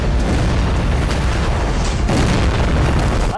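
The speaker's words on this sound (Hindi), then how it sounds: "कुछ इस तरह ताबड़तोड़ फायरिंग और गोले बरस रही हैं" Heavy artillery shelling and gunfire in the streets of Bakhmut during fighting, a dense, continuous roar of loud booms and blasts with no pauses between them.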